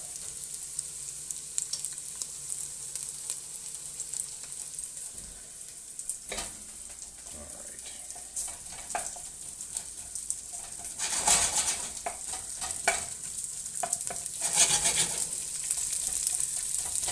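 Onions frying in a pan, a continuous bright sizzle with intermittent scraping and stirring clatter that grows slightly louder in the second half, while birds coo faintly in the background.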